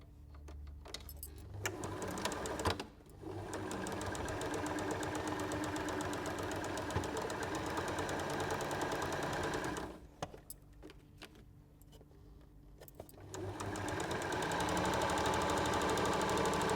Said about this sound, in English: I'm just going to sew these 2 together to complete that square